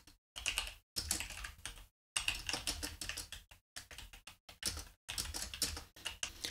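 Close, crisp keystrokes on a computer keyboard while C++ code is typed, coming in quick bursts separated by short pauses, with no voices.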